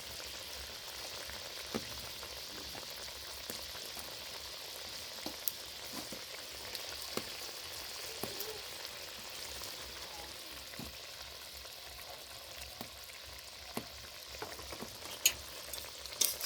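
Pieces of a large pangas fish fry in spiced oil masala, a quiet, steady sizzle with scattered small pops and spatters, fairly faint and continuous throughout.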